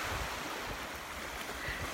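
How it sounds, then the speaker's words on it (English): Ocean surf washes steadily on a beach, a continuous broadband hiss and roll with wind buffeting the microphone, no voices. "I'm getting knocked over by waves"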